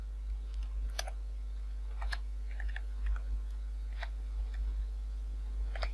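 Keys tap on a computer keyboard in quiet, irregular keystrokes, soft and close, over a steady low electrical hum.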